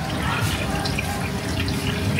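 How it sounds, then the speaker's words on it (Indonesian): An electric water pump in a custom-tuning workshop sends a strong, low-pressure stream of water, a steady close rush and trickle with no break. "Electric water pump."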